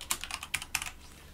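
Someone types on a computer keyboard: a few quick, crisp key clicks in an uneven burst, then quiet, faint and close with no talk.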